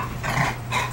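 A dog in a home setting gives two brief, fairly loud whining bark-like vocalizations close to the microphone over a steady background hum.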